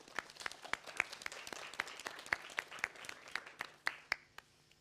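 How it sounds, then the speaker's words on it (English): A symposium audience claps at a festival talk, a scattered round of individual hand claps with sharp distinct slaps, fairly faint and thinning out toward the end. "So a big round of applause"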